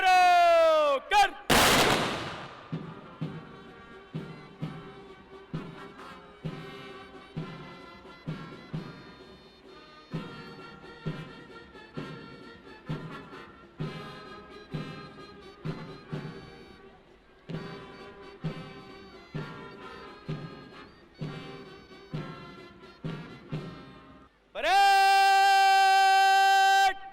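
Ceremonial rifle salute at an Independence Day parade at RAPTC Indore on 15 August, with a long run of sharp shots at a steady beat, and band music opening and closing the sequence.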